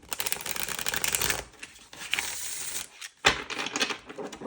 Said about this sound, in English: We'll do one more shuffle.